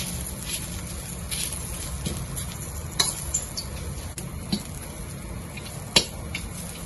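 Salted vegetables fry over medium heat in a pan, giving a steady low sizzle with occasional sharp clicks and taps of a utensil stirring, fairly quiet and without talk.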